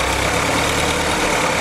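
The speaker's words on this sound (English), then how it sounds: "here's your engine running on your original carb" Willys M38 jeep engine running on its original carburetor, a steady mechanical idle with a rough, knocking texture, close and loud with no voices.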